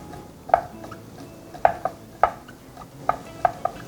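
Peeled, deveined shrimp being tossed with salt and black pepper in a bowl. A handful of sharp utensil clinks land in an irregular rhythm over a quiet background.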